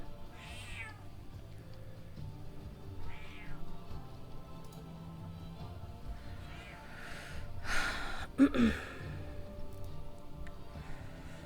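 A pet cat lets out several separate meows across the stretch, a couple early and faint, then a louder close call with a snort-like breath around the eighth second, over quiet room hum.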